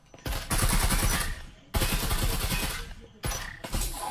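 Gunshots in Breachers VR come as three sharp bursts of rapid automatic fire, each lasting about a second with brief gaps between, loud and close.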